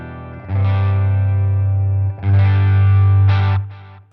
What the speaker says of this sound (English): Let's have a listen to how it fuzzes. I'm going through the Katana 100 watt combo Mark II.